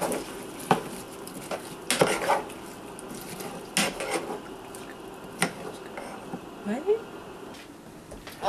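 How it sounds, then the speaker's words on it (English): A utensil stirs potatoes in vegetable oil in a pan, giving intermittent scraping clacks and knocks against the pan with soft sizzling underneath, close and moderately loud. "so now I'm just going to stir it"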